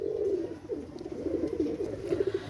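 Pakistani KTM teddy pigeons coo in a series of soft, close rolling calls, repeating steadily over a faint background hiss.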